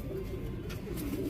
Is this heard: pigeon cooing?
yes